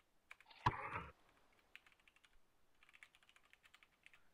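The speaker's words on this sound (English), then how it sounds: "What am I typing?" Keystrokes on a computer keyboard during a game stream, a burst of brisk clicks followed by a louder knock, then scattered lighter taps tapering into a quick rhythmic run, close and fairly quiet with no talk.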